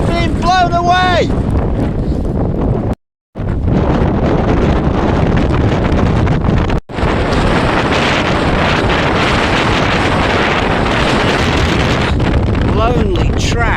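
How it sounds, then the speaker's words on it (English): Strong gusty wind of about 45-50 mph on an exposed stretch of Britain's north coast toward Cape Wrath, roaring continuously across the microphone with heavy buffeting, broken by two brief dropouts, and a voice speaking faintly under it. "I thought it worth showing a little video of how windy it is today. I think it's about 45 or 50 mile an hour gusts."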